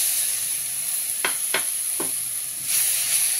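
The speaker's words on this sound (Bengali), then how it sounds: "যে পেঁয়াজের যতক্ষণ কাঁচা গন্ধটা না যাচ্ছে ততক্ষণ আমি ভালো করে ভেজে নেব।" Raw onion paste frying in a pan for a spiced potato fry, a constant hissing sizzle with three short scraping stir strokes midway and a louder burst of sizzle near the end.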